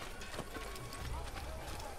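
A horse's hooves thud in a quick running clip-clop in the Assassin's Creed video game, mixed with loud, noisy game sound, while someone talks over it.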